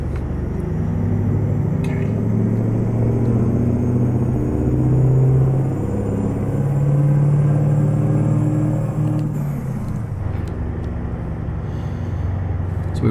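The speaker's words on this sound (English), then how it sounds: "So we rev it out in third gear," A V8 Mack R truck engine in American Truck Simulator, on a snowy drive, revving out in third gear: a deep, steady, droning rumble that rises and eases over about thirteen seconds, with no voices.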